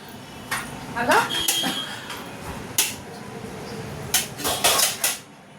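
A spoon clinks and scrapes against a plate while someone eats pulao, several short metallic taps spaced irregularly with a quick cluster near the end, under people talking nearby.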